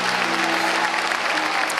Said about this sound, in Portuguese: Aplauda o Rei Jesus e tome o seu assento.